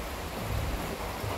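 Steady hiss of rain falling, a dense, even wash of noise with some low rumble, continuous and fairly close, no voices.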